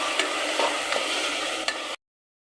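Tomatoes and curd sautéing in a pan give a steady moderate sizzle with a few soft stirring clicks, alone without talk, before cutting off abruptly.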